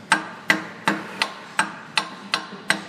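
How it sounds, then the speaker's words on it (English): A sledgehammer gives a Ford Taurus 3.0L 12-valve engine part eight light, evenly spaced metallic taps, close and crisp against a quiet workshop background. "you may need to use a sledge like this and give it slight taps"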